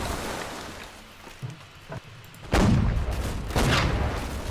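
Cannon fire in a naval battle in Holdfast: Nations At War, with a few faint distant pops followed by two heavy, booming broadside blasts that roll on with rumbling noise.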